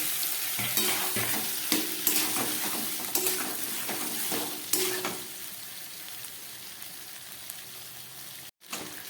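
Vegetarian masala frying in a pan just after tomato goes in, for an aloo paneer dish: loud continuous sizzle with frequent stirring scrapes and clinks, easing toward the end before a brief cut.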